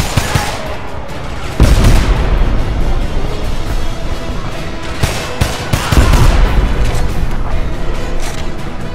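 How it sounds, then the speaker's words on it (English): In the video game Homefront, a heavy grenade blast booms out amid sustained rapid gunfire, with a second loud explosion a few seconds later, all dense and close-sounding. "Toss a grenade in."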